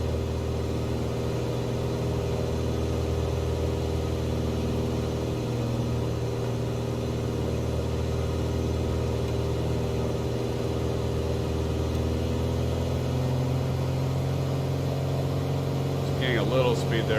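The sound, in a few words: Piper Arrow III propeller engine in video game MSFS 2020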